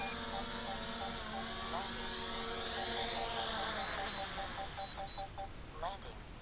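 A DJI Mini 3 Pro drone lands while its rotors keep up a steady high whine with shifting tones, heard up close over constant rushing noise.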